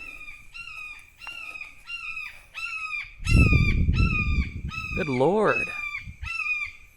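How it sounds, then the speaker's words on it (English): A large bird screams repeatedly as it flies overhead, loud harsh honking calls in a steady rhythm, while a man exclaims in the middle and a lower rumbling noise swells beneath. "I don't know why that bird decided to fly over screaming like that"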